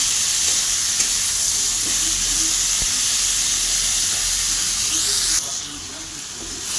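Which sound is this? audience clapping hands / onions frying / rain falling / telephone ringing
onions frying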